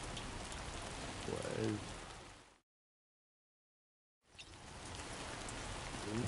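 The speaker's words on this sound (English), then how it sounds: "The rain's never going to stop by doing something, that's for sure. No end to this rain." Steady rain pouring in the video game Death Stranding 2, a dense even hiss that drops out briefly in the middle, with a voice speaking over it near the start.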